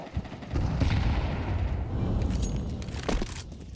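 Grenade blasts and pistol shots from a Counter-Strike match at a professional esports event, a dense run of loud booming and cracking gunfire with no pause.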